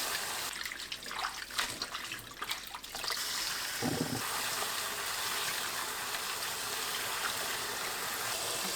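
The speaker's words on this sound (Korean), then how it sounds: "쑥을 두세 번 씻어주세요." Tap water runs steadily while fresh mugwort is rinsed in a kitchen, a close, continuous splashing stream with brief bursts of sloshing and handling near the start.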